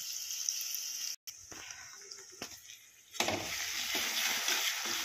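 Spices fry in a pan for paneer bhujia, giving a soft, close sizzle with a few stirring scrapes and a brief dropout, growing brighter and louder in the last seconds.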